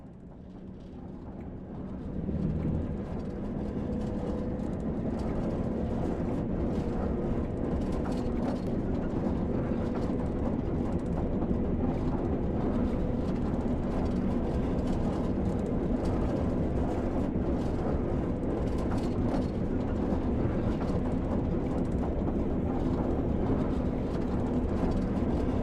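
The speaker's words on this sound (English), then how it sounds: "With the train now moving, it's possible to apply more power and focus on achieving a desired speed." A diesel train moving on the Tees Valley Line in the Train Sim World video game, a steady low rumbling engine drone that swells after a couple of seconds and then holds constant with faint mechanical clatter.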